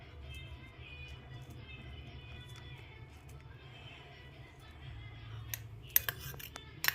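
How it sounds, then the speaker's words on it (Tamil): A banana sliced into pieces with a knife for panchamrutham, heard as soft, faint cutting sounds over a low steady hum, ending in a few sharper taps of the blade on the board. "வாழைப்பழத்தை கட் பண்ணிக்கலாம்"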